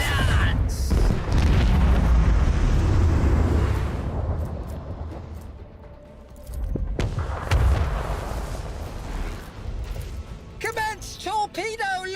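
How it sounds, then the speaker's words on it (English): Heavy macro cannon barrage in a ship-combat video game, with deep booming blasts rolling continuously for several seconds, then dying down before another burst of explosions and a few sharp electronic chirps near the end. "Initiate macro cannon barrage."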